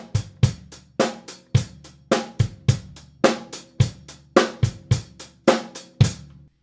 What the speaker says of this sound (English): If I play a simple rock beat, 8 notes on the hi-hat